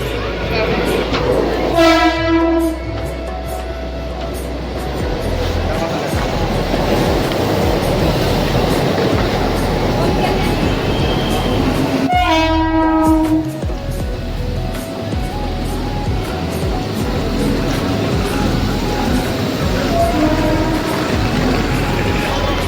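A Mumbai local train starting from Churchgate, a loud rumbling roar of wheels and carriages with two long horn blasts, near and continuous, with voices faintly under it.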